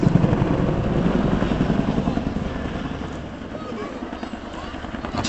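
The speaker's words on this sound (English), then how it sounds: "you can hear why the aircraft is called just because of that blattering noise it makes" Chinook helicopter at an air show, its twin rotors giving a loud, rhythmic blattering throb that stays close and heavy for several seconds while a commentator talks over it.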